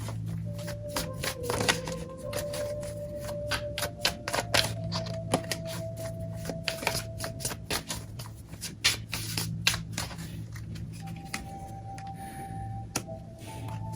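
Tarot cards being shuffled and pulled from the deck, a close run of quick papery flicks and riffles with soft taps and slides between them, no voice.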